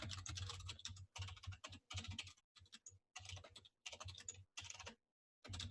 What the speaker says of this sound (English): You could see I'm typing because I can't spell